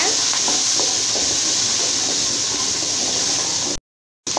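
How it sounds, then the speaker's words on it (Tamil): Small onions, fennel seeds and curry leaves sautéing in hot oil, a loud, dense, continuous sizzle close up with faint stirring scrapes, cutting off abruptly near the end. "ஆயில் சூடானோடனே சின்ன வெங்காயம் ஆட் பண்ணிக்கலாங்க அது கூடயே சோம்பு ஆட் பண்ணிக்கலாம் கருவேப்பிலை இப்போ வந்து இது எல்லாமே சேர்த்துட்டு நல்லா இந்த மாதிரி வதக்கிக்கலாங்க"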